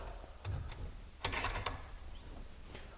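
A 3/4-inch grade 8 steel bolt being clamped down in a vise, heard as a few faint metallic clicks and ratcheting turns with quiet gaps between them.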